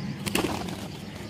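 Flying pigeons (kabootar) at a rooftop loft cooing and calling in a short, busy burst over steady outdoor background noise, with a brief flutter of activity near the start.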